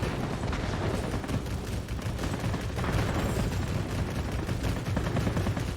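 Aircraft guns rake a cluster of tents in the World of Warplanes game, a dense, continuous rattle of rapid fire and blasts holding steady and loud throughout.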